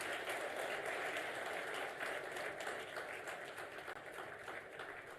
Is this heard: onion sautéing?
no